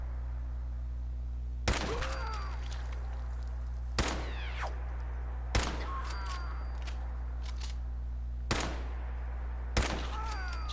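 DKS-501 sniper rifle from Fallout 4 firing five sharp, loud single shots spaced roughly two seconds apart, each with a ringing echo tail over a steady low hum.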